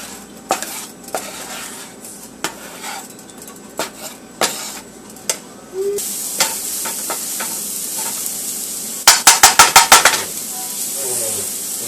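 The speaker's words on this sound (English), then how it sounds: "we are just going to nicely and neatly stir these around" Ingredients being stirred around in a pan, with sharp metal utensil clicks and taps against the pan at irregular intervals, then a steadier sizzle and a quick rapid burst of scraping strokes, close by.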